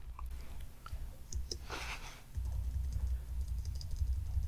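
Arrow keys tapped on a computer keyboard, a few quiet clicks and a short burst of key presses over a steady low hum, with no talking.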